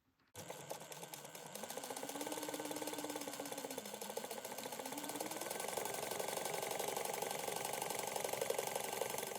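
A sewing machine runs continuously at close range, a steady mechanical whirring and rapid ticking as it bastes stitches around fabric layers for a laptop bag, starting abruptly after a brief silence.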